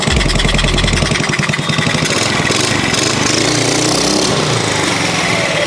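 A modified Honda Activa scooter engine runs loud and steady close by, a continuous buzzing drone that holds the whole time with no talk over it.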